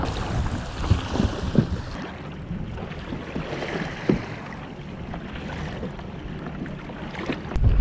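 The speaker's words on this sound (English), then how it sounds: "Wow, it's windy." Strong wind buffets the microphone in rumbling gusts, with scattered thumps and splashy hiss from a small fishing boat on rough water at San Pablo Dam Reservoir during a storm front.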